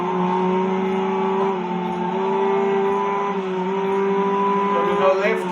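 Ginetta GT race cars in GRID Legends drone at a steady high engine pitch, with the tone shifting slightly as they push through a race, and a brief scrape near the end.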